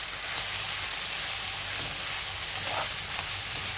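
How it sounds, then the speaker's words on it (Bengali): Potato and carrot bhaji frying with onion in a pan, a dense, even sizzle like light rain, with soft stirring sounds underneath. "অনিয়নটা মিশিয়ে দিচ্ছি আলু ভাজির সাথে।"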